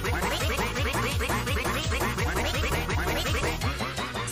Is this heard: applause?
no